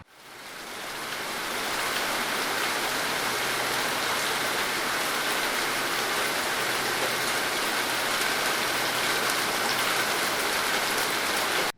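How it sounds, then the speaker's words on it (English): Heavy rain pours steadily and loudly, a dense, unbroken hiss of drops on surfaces that swells in over the first second and holds constant, with no voices. "that rain was absolutely biblical"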